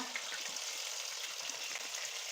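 Chicken pieces fry in a pan on low heat, a steady soft sizzle and crackle that runs without a break, close but fairly quiet, and no voice is heard.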